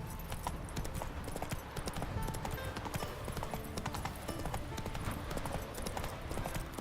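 Roach, a horse in The Witcher 3 video game, gallops in a steady, close clip-clop of hooves that runs unbroken throughout, with game ambience behind it.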